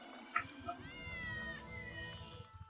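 Cats meowing in the video game Ultima Online Outlands, a couple of short meows followed by a longer drawn-out wavering cat cry, fairly quiet, with a voice talking faintly underneath.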